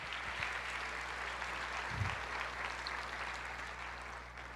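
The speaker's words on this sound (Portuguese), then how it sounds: "Aplauda ao Senhor" A church congregation applauds during a sermon, a steady wash of clapping from many hands heard from a distance in a reverberant hall, with no voices over it.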